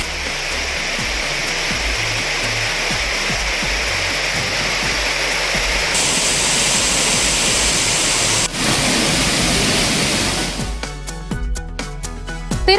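Courtallam waterfalls in flood after continuous rain, a dense, loud, unbroken roar of rushing water; near the end, a second, more broken, splashing water texture takes over.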